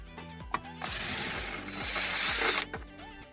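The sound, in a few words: removing screws from a Buick Enclave side marker lamp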